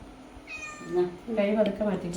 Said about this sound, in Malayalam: അമ്മയും പൂച്ചക്കുഞ്ഞും